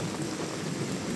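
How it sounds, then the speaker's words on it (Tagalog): Rain falling steadily over a rice field, a dense, even hiss of drops with no voices. "Ulan na."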